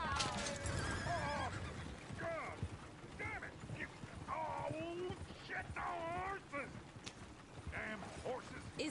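Horses in Red Dead Redemption 2 whinny and neigh repeatedly, loud and close, with hoof clip-clops and game sounds mixed among them and some talk underneath.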